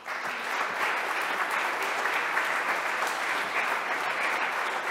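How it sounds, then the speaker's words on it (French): Audience applause in a hall at the closing session of the WLS 2021 conference, a steady dense wash of clapping from many hands that holds at an even level throughout. "vous pouvez l'applaudir"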